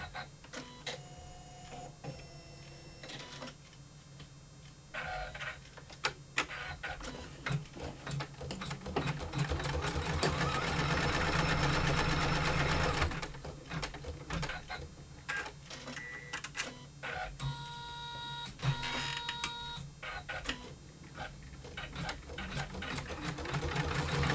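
An embroidery sewing machine runs steadily while satin stitching a design, a dense mechanical whir and rapid needle chatter that swells louder mid-stretch, continuous throughout with occasional faint clicks.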